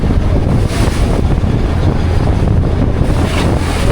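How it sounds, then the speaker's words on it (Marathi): Storm wind roars and buffets the microphone while big waves surge around a fishing boat out at sea during pomfret fishing, a loud, constant low rumble with rushing water and no voices. "वादळ जोराने सुटलेलं आहे वादळ मित्रांनो बघा. लाटा किती मोठमोठे."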